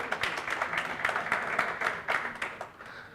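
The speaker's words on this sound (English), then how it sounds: "A round of applause there for our Minister of Sport, Art and Culture," An audience applauds the Minister of Sport, Art and Culture at a school football championship event in South Africa, a steady wash of many hands clapping that fades slightly near the end.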